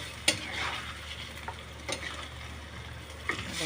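Squid with tomato paste and oyster soy sauce being stirred in a pan, a soft sizzle with a few light scraping clinks of the spoon, quiet and close.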